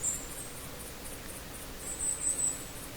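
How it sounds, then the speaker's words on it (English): Faint high-pitched insect chirping pulses steadily over a soft hissy ambient background in the hunting video game theHunter, with no voices. "you can hear obviously different types of birds, insects, and even woodpeckers."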